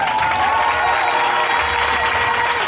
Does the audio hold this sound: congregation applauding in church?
yes